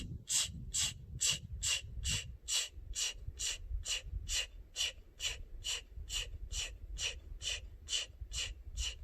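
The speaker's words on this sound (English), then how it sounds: "Keep forcing the air out." Rapid, forceful exhales through the nose during a power yoga breathing exercise, about twenty sharp hissing puffs in a quick, even rhythm, close and distinct over a low background rumble.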